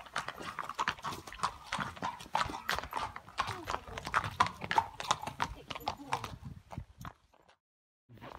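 Racehorses walk across a stable yard in snowy weather, a loud, busy clatter of hooves on hard ground in irregular overlapping beats, with people talking over them before things go quiet near the end.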